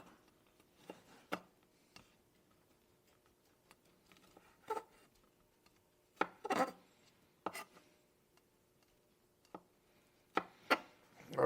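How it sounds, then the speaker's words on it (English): A knife cuts garlic cloves into thin slices on a board, making sparse, irregular sharp taps, with some quick clustered cuts and quiet gaps between. "now what I want to do, I want to cut it in thin slices"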